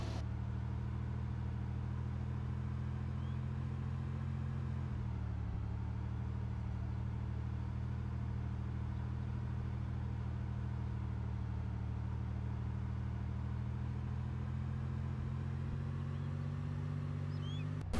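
Steady engine drone of a car in DayZ (Arma 2), running loud and continuous for the whole stretch with a slight dip in pitch midway, no talk over it.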